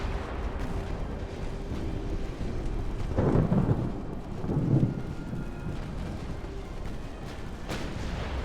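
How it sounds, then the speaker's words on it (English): Torpedo hits on warships in the naval battle game Ultimate Admiral: Dreadnoughts, two deep rumbling booms in quick succession over a low ambient roar, moderately loud, no talking. "That was 2 fucking torpedoes at once."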